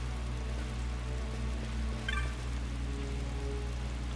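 Steady rain falls in Final Fantasy XII as an even, continuous patter over a low hum, with a brief soft chime near the middle.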